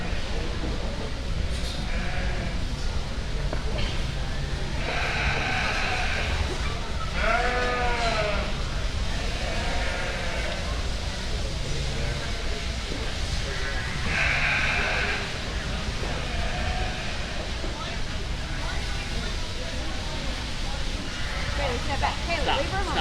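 Sheep bleat repeatedly at a breeding sheep show, wavering calls rising every few seconds over a constant crowd hum, with people talking in the background.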